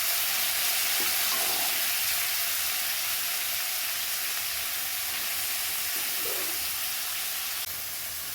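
Beef frying in oil for beef fry, a new batch going into the pan with a bit more oil added; a steady, close hiss and sizzle with occasional stirring scrapes, with no talking.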